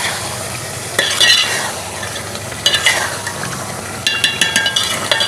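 Masala for dum kaleji frying in a pan, a constant crackling sizzle punctuated by bursts of spoon scraping and stirring against the metal, close and fairly loud with no talk.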